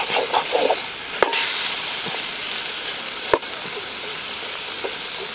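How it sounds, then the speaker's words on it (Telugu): Fish pieces frying in oil for a fish curry cooked outdoors, a continuous loud sizzle with a few sharp clinks and scrapes of a utensil against the pan. "అందుకే ఫస్టే మొత్తం నూనెలో ఫ్రై చేస్తా"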